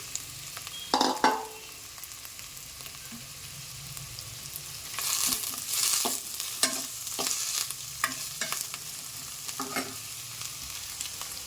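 Chopped vegetables frying in hot oil over a low flame, a soft continuous sizzle punctuated by repeated scraping strokes of a spoon against the pan, close and fairly loud.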